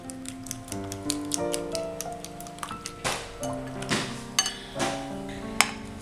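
Beaten eggs with onion and green chilli are mixed by hand, giving quick, irregular clicking taps. Soft background music plays behind them.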